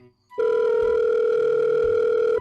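A telephone sounds for an incoming call, a loud steady electronic tone starting abruptly and holding without a break.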